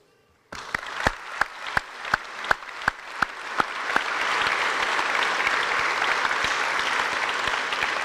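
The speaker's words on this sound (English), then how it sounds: "Please give a warm round of applause" Audience at a military welcome home ceremony for the 1st Battalion, 188th Air Defense Artillery Regiment begins with a handful of sharp, separate claps after silence, then swells into steady, dense applause that continues to the end.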